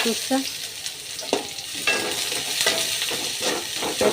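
Chopped onion fries in a pan with garlic and green chili for a kalonji bharta, a steady close sizzle with scraping stirs and spatula clinks, no voices.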